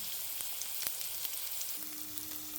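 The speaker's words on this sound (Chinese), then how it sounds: "一面煎到金黄后就可以翻面了，建议豆腐表面都煎到金黄。" Tofu pan-frying in oil, a soft, even sizzle at low volume that runs steadily with a few faint crackles and pops.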